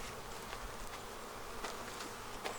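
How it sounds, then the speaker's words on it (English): Honey bees swarm around an open Flow Hive frame, making a steady, fairly faint droning buzz with a few individual bees zipping close past now and then. "Hey bees, stop going after my hands."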